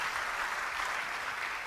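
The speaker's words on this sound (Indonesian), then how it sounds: "Yang setuju beri tepuk tangan bagi dia." Church congregation applauding, a brief, fairly distant wash of clapping heard on its own with no talk over it.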